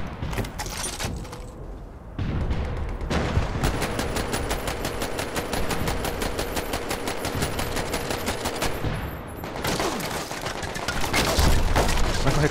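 Sustained automatic machine-gun fire in the VR shooter Medal of Honor VR, a dense rapid rattle of shots lasting several seconds, loud and close, with shorter bursts and clatter before and after.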